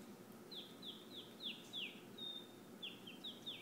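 A series of short, sharp whistled chirps in quick succession, a voice imitating birdsong, repeated about a dozen times over a low background rumble.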